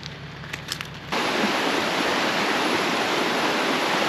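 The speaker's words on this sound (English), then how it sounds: "we've arrived at the waterfall" A waterfall in the forest of Mondulkiri, Cambodia, bursts in after a quiet second of faint clicks, then a loud, steady, close roar of rushing water fills the rest.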